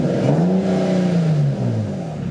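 Infiniti G35 engine idling and revving while warming up, a loud close rumble with a rising and falling pitch throughout.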